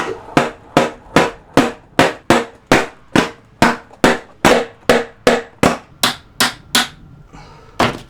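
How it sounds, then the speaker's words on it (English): A hammer strikes a bicycle fork during a lightweight electric mountain bike build: about seventeen sharp metallic blows at a steady, quick rhythm, loud and close, the last few slightly softer before a brief quiet tail. "If you use a bigger hammer, it's usually easier."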